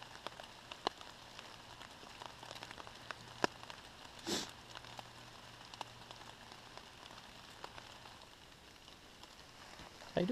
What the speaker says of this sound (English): It's been raining steadily for about, what, an hour?